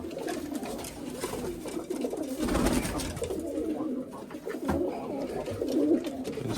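A pigeon coos repeatedly at close range in a dovecote, soft low throaty calls rising and falling over steady background noise.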